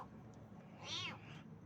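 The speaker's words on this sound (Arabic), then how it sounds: "حاليا عملية انقاذ قطو تحت السيارة، خاف يدخل في الماكينة" A cat trapped beneath a car lets out a single faint, drawn-out meow over low background rumble.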